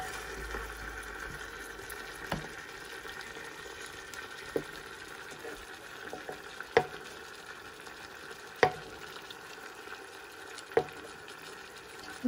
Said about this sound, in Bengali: খুব আস্তে আস্তে আমি এরকম নাড়ব চারিদিক থেকে